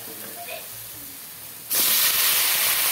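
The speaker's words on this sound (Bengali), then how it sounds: "টমেটো দিয়ে দিলাম, টমেটোগুলো একটু কষিয়ে নিই।" Tomatoes hit a hot pan to be sautéed with vegetables for a drumstick (sajna) curry, and a sudden loud, bright sizzle bursts in partway through and holds steady after quieter kitchen background.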